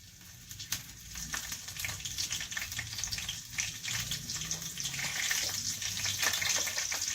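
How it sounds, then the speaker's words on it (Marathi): Four or five garlic cloves fry in hot oil in a kadai, a steady crackling sizzle that swells slightly louder toward the end, close and continuous with no talking. "तेल आता चांगलं गरम झालंय त्याच्यामध्ये मी आता हे या चार पाच बिया लसणीच्या टाकते"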